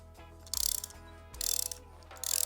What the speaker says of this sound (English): Let's use the socket.